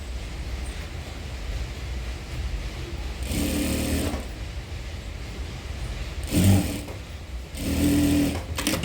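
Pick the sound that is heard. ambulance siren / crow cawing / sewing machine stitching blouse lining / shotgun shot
sewing machine stitching blouse lining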